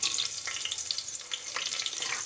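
Green chillies and mint sizzle in hot oil in a pan for chicken dum biryani, a steady close crackle with bursts of spattering and no talk.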